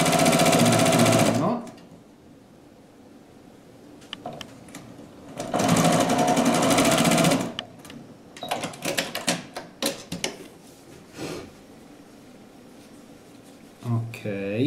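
Sewing machine stitching seams on a knitted star, pressed open and flat; two loud bursts of fast stitching alternate with quiet pauses, then a scatter of softer handling clicks and short machine runs near the end.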